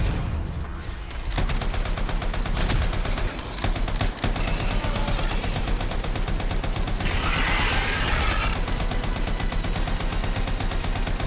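A light machine gun fires in long sustained bursts in the game Anthem, a loud dense rattle of rapid shots that runs almost the whole time, with a brief gap near the start and explosive bursts layered in.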